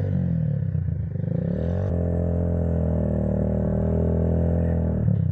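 Motorcycle engines rev and drone steadily in mud, a loud, close, sustained buzzing roar that shifts pitch partway through, with no talking.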